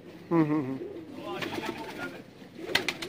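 Sialkoti pigeons coo in a short, throaty, rolling burst close by, followed by soft fluttering and faint bird sounds, with light background noise.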